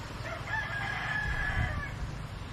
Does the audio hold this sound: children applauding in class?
no